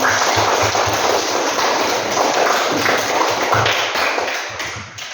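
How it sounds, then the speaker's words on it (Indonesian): Rapid, loud clapping from a group of children in a classroom, a dense continuous patter of hands with rhythmic thumps underneath, slightly fading near the end. "Tepuk tangan buat kita semua."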